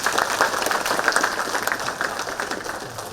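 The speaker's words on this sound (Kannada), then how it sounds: "ದಯವಿಟ್ಟು ಒಂದು ಚಪ್ಪಾಳೆ ತಂದು" An audience at a training-programme event bursts into steady applause, a thick, even rattle of many hands clapping that fills the hall for a few seconds, with faint voices beneath.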